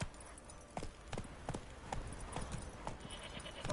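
Roach the horse gallops in The Witcher 3, hooves clip-clopping in a steady, quick rhythm close by, with a voice speaking briefly over the hoofbeats.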